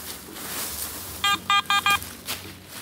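A metal detector sounds four short, sharp electronic beeps in quick succession over an old colonial cellar hole, fairly loud against quiet outdoor background noise.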